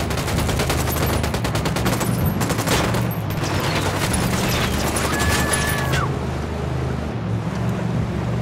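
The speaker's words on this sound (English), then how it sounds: "I'm opening fire on these shitheads." Gunfire in the Ghost Recon Wildlands video game, dense rapid bursts of automatic shots for about three seconds, then thinning into scattered fire over a low ambient rumble.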